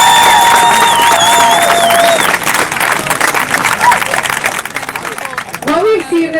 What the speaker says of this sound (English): So round of applause to all of you, okay?